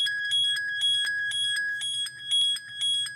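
Noisy One, a stock ringtone on the Sony Xperia Z phone, plays as bright, bell-like electronic chimes struck in a quick repeating rhythm, loud and close, with no talking.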